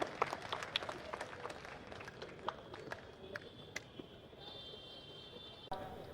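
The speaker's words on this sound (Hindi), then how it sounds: "सीम सिद्दीकी साहब इस ट्रॉफ़ी के हकदार हैं तो ज़बरदस्त तालियों की गड़गड़ाहट इस शुरू से आखिर तक आनी चाहिए" Faint, scattered applause at an Urdu mushaira trophy presentation held at Nagpada Junction, with sharp claps standing out over a low crowd murmur, fading near the end before a brief burst returns.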